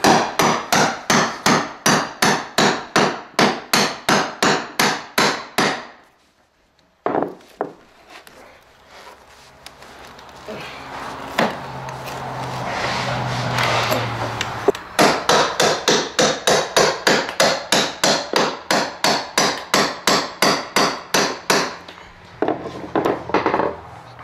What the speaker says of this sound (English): Just hammer and hammer and hammer,